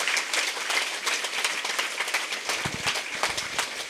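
A crowd claps to welcome an arriving guest at a meditation hall opening in Mandapeta, a dense, continuous patter of many hands at even loudness, joined by a few louder close claps toward the end.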